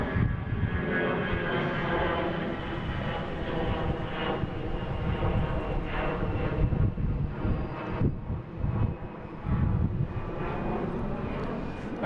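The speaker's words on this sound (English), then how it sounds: "next taking off is Delta, Team USA, heading to London Heathrow" A Delta jet airliner bound for London Heathrow takes off at Boston Logan International Airport, its engines giving a loud, sustained broadband roar that holds steady and rumbles over the whole stretch.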